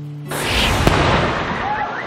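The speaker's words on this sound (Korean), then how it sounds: "그 첫날 밤은요 화려한 불꽃놀이로 마무리가 됐습니다." Fireworks burst at night during a trip. A sudden broadband boom hits early, followed by a sharp crack and a long, rumbling, crackling tail that fades gradually, loud and close.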